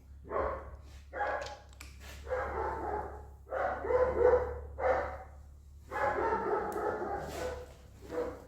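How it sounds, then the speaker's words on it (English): Repeated close dog barks come in uneven bursts of two or three over a constant low electrical hum, heard in a garage during a Chrysler Valiant engine build. "That's not our dog, by the way."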